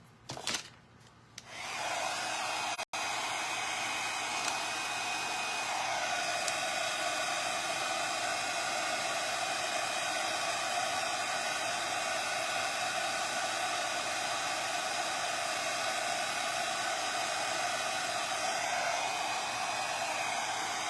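A heat tool blows hot air onto a wooden appliqué for decoupage, a steady loud whooshing roar that switches on early and runs unbroken to the end.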